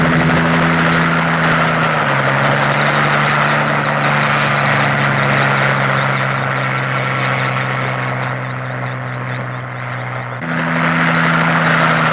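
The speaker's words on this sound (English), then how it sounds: "Another helicopter" A helicopter drones steadily and loudly nearby, its rotor hum and engine whine shifting slightly in pitch as it flies over.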